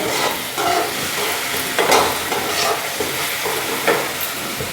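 Tomato and masala frying in a pan for chicken curry, a steady sizzle broken by several short bursts of stirring, close and fairly loud with no talk.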